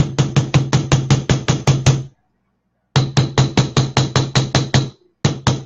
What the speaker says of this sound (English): So, with my little hammer, I am, hold your ears